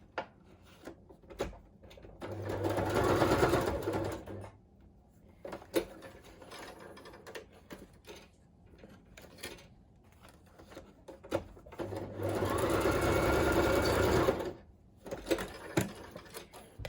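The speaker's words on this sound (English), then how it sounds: "I'm going to sew this one on next." Sewing machine stitching a paper collage quote card, two bursts of rapid whirring stitches separated by quieter clicks and handling taps, close and fairly faint.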